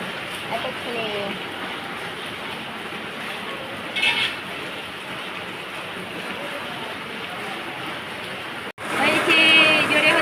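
Heavy rain pours down in a steady, even hiss during a downpour at home, and a voice speaks briefly over it near the middle and again at the end.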